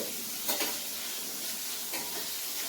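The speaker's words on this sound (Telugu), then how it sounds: "ఇలా ఫ్రై అయితే చేస్తున్నాను" A seasoned dish sizzles and is stirred in a pan during home cooking, with a steady close frying hiss and a couple of brief scraping stirs, with no talk.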